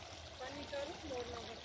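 Small streams of water trickling steadily through stone-lined rice fields in a Himachal village, a faint, continuous flowing murmur with someone speaking over it.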